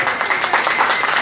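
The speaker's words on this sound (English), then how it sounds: "give a round of applause." A brief burst of applause from an audience at a community business and college football event, many hands clapping loudly and close for about a second.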